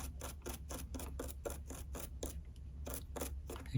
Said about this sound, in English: we're gonna kind of scrub this here knob just a little bit